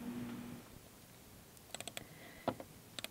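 Several quick, sharp computer mouse clicks, close and fairly faint, come in a short cluster and then a pair over a quiet background hum, with no talking.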